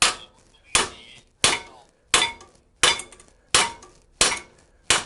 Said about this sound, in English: Hammer the knuckle downwards.